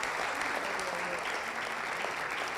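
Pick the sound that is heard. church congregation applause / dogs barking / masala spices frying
church congregation applause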